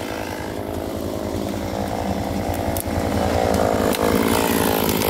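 A Stihl MS 192 T chainsaw runs loud and close while clearing trails, its engine holding a steady, rough, buzzing drone throughout with slight rises in pitch under load.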